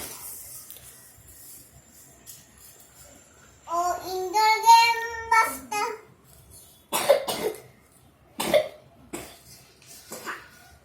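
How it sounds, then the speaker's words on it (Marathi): A child coughs several times in short, sharp bursts after a stretch of higher voiced vocal sounds, heard close up in a quiet indoor room. "खोकला लागला पाणी पिऊन घे"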